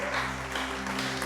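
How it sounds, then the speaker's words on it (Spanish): A church audience claps in a dense, continuous wash of applause that fills the space, loud and steady through the short moment. "Dale ese aplauso al Rey."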